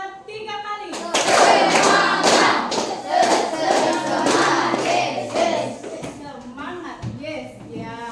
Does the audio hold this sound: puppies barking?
no